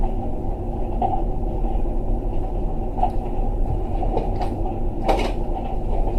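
A continuous low mechanical rumble with occasional soft knocks and clunks as a washing machine drum turns slowly, steady and fairly close.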